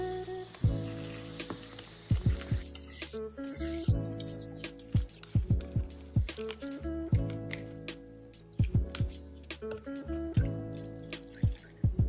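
Water pours and splashes into a bowl of sliced potatoes, with dripping and gentle sloshing in irregular bursts as the slices are rinsed, close and moderately loud with no talk.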